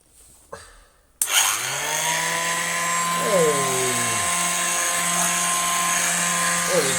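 A vintage Apex 617 hand-held vacuum cleaner switches on with a sharp start after a couple of quiet knocks, then runs with a steady high whine that briefly dips and shifts pitch as it picks up debris.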